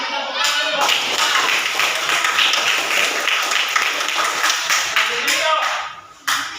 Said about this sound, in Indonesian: ayo kasih tepuk tangan buat kita